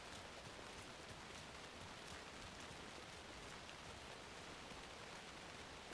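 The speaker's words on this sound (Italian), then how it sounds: "Certo che Bright Falls di notte con la pioggia è davvero suggestiva." Steady rain at night in Bright Falls in the video game Alan Wake 2, a constant, even hiss of falling drops with no other sounds.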